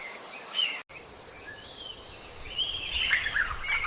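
Colorful birds of the Amazon rainforest chirp and call in scattered high twitters over a steady hiss of insects, growing busier toward the end, with a brief dropout early on.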